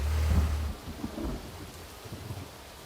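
Thunderstorm with hail in the Roblox game Twisted: a deep thunder rumble up front giving way to steady rain and hail pattering on surfaces, no voices.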